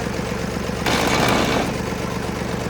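A tractor engine running on diesel mixed with petrol idles steadily and close by, with a brief rise in revs partway through before settling back to a constant drone.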